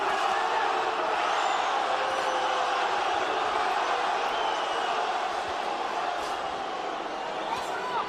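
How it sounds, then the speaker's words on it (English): A boxing arena crowd at a Humberto Soto vs Rocky Juarez fight roars and tries to start a ragged chant, a continuous, distant-sounding wall of cheering and shouting. "Crowd wants to chant Rocky,"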